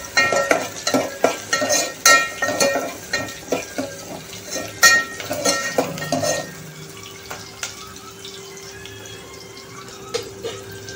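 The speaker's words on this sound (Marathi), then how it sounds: "आपल्याला कांदा छान ब्राऊन थोडासा करायचा आहे, छान परतून घ्या" Onion frying in a pan for dhaba-style dal tadka, stirred with clattering metal utensil strikes and scraping, over a steady low sizzle that continues alone once the stirring stops.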